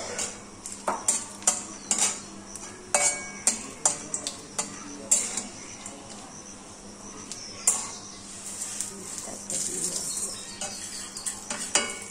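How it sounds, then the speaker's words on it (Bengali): Rice, ghee and turmeric being stirred in a kadai for basanti pulao: a spoon scrapes and clinks against the metal pan in irregular bursts, fairly close, with a soft steady background. "কড়াইতে দিয়ে দেওয়া হলো চাল, ঘি আর হলুদ দিয়ে ভালো করে মাখিয়ে নেওয়া হয়েছে"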